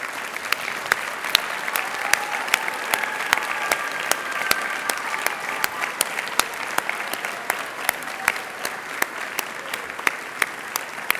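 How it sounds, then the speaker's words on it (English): Graduates at a commencement ceremony applaud their parents, a steady, moderately loud wash of clapping with sharp individual claps standing out throughout. "so that your kids can give you a round of applause"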